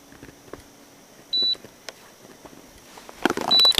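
Two short electronic beeps from a DEEPGEOTECH proton magnetometer during a field test, one near the start and another near the end, over quiet rustling and faint handling noise.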